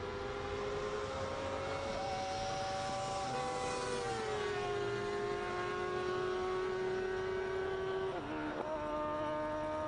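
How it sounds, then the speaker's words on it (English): Naturally aspirated speed car extreme with a Suzuki 600cc motorcycle engine on a hillclimb run, a loud high-revving howl holding steady then shifting pitch, with a sharp dip and rerev near the end, no talk. "And this is Terry Smith, also in a speed car extreme with that Suzuki 600cc engine."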